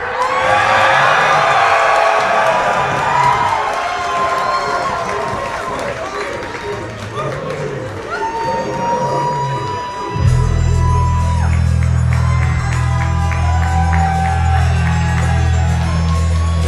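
A professional wrestling crowd at Prestige Wrestling's Roseland event cheers, whoops and shouts in anticipation, a loud excited roar under a commentator's voice, with rhythmic chanting and a heavy music bed entering partway through.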